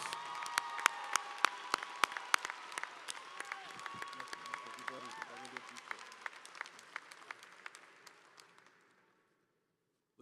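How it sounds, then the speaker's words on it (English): Commencement audience at a university spring ceremony clapping, with sharp nearby claps over a broad crowd applause and some cheering, voices mixed in, tapering off and fading to silence near the end. "Please give him a round of applause."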